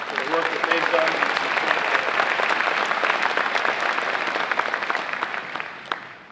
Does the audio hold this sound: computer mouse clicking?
no